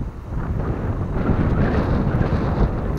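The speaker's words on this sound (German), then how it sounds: "Also heute viel Wind, viel Sand," Strong wind on Maspalomas beach, with blowing sand and moderate waves, roars loudly and steadily in gusty buffeting against the microphone, with no voices.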